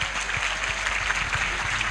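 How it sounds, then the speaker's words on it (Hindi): A congregation at a Hindi-language Christian prayer service claps hands together in thanks, a dense, continuous patter of many palms filling the room steadily for about two seconds with no voices over it. "पहले ताली बजाकर प्रभु को धन्यवाद करें"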